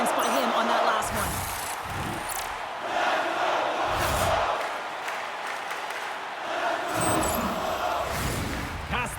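A hockey arena crowd in NHL 26, Bruins at Buffalo, gives a loud sustained roar that swells and dips in waves, with arena noise and commentary mixed in.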